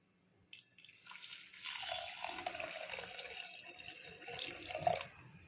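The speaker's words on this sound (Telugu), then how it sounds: "చింతపండు గుజ్జు అనేది కొంచెం వేసుకున్నానండి." Soaked tamarind pulp is poured into a pot of sambar, a soft, close liquid splash and trickle that builds after a brief quiet start and runs on steadily, ending with a small clink.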